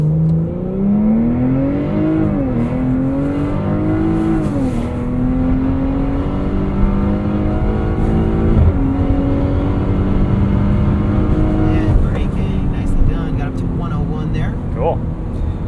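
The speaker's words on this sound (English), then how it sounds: "release the brake, then you're going to take your foot off the brake and enjoy the acceleration" A 2023 Porsche Cayenne S launching from a standstill at the Porsche Experience Center in Los Angeles, engine rising through repeated gear shifts with a steady roar under road and wind noise, heard from inside the cabin.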